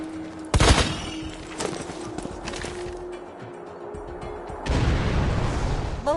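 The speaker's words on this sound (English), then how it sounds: "Please fire the cannon again." A loud cannon blast in the video game Borderlands 2 booms early, followed by rumbling and a second heavy burst later, with a steady mechanical hum underneath.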